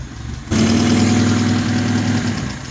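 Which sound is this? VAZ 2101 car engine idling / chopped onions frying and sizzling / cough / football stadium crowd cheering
VAZ 2101 car engine idling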